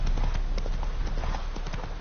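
Roach, the horse in the video game The Witcher 3, gallops with rapid, rhythmic clip-clop hoofbeats that are loud and close over a low rumbling background.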